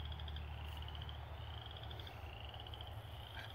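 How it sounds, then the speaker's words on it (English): A dense chorus of frogs croaking in repeated pulsing trills along the Natchez Trace, steady and moderately distant, with a low background rumble underneath and no talking. "Listen to the frogs."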